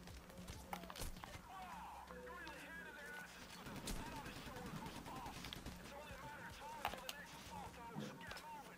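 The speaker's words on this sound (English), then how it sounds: "With my silenced pistol." Silenced pistol gunshots in the video game Payday The Heist, sharp muffled pops scattered among game effects, footsteps and other gunfire, with talk running over much of the scene.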